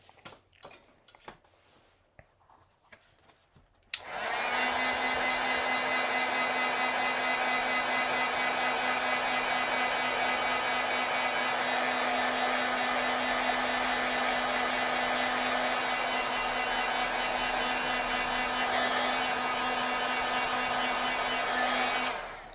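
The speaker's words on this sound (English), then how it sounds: "I might wait for this to dry a touch, or I can heat set it here just a little bit." A heat tool switches on after a few quiet seconds of faint handling noise and then blows in a loud, steady whirring hiss while heat-setting a foiled card.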